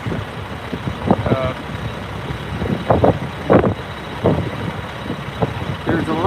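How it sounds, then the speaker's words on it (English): Trucks and tankers idling and passing at the main gate of SpaceX Starbase in Boca Chica, Texas, on a windy night, engines rumbling with bursts of hiss and clatter over steady wind noise. "There's a lot of trucks here."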